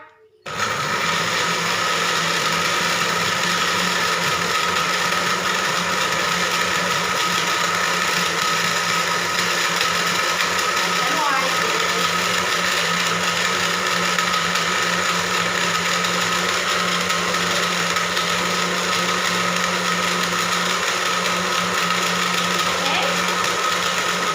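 A blender whirs steadily while mixing an Oreo milkshake, a loud, constant motor drone that starts abruptly and runs unbroken close by.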